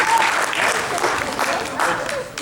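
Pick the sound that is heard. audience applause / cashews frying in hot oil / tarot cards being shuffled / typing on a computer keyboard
audience applause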